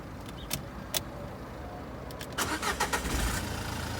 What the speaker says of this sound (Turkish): Sonra aracı bir çalıştıralım. Hadi çalıştır bakalım.